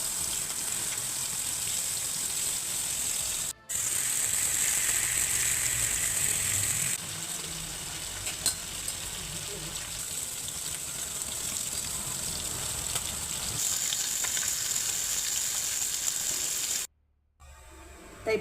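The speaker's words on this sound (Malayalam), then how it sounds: "ഇപ്പോൾ നമ്മുടെ നൊത്തോലി ഫ്രൈ നന്നായിട്ട് മൊരിഞ്ഞിട്ടുണ്ട്." Kerala-style anchovies (netholi) frying with curry leaves in oil, a steady close bright sizzle that carries on with few breaks and drops out briefly near the end.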